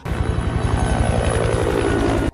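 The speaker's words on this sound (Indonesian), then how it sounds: "Sebuah helikopter terbang mengarah kepada Rovach." A helicopter flies close overhead, its rotor producing a loud, steady rhythmic chop over a dense low engine roar that stays constant throughout, with no voices present.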